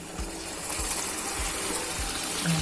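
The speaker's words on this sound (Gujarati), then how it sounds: "આ પાણી આપણે અંદર ઉમેરી દેવાનું છે" Hot water is poured into a pan of dhaba-style spinach bhaji cooked with little oil, giving a steady, close gushing rush with soft low thumps recurring about every half second.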